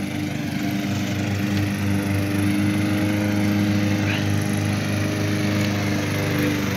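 A lawn mower cuts grass in Olympia, Washington, its engine humming loud and steady throughout at close range, with a brief voice heard under the motor.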